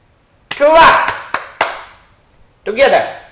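Two crisp, close hand claps from a children's English action-words lesson land in quick succession, with a voice speaking just before and again after them.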